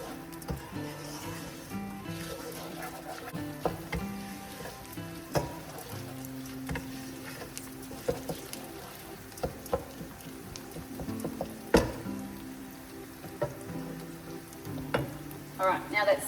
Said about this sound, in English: All right, now that's sizzling again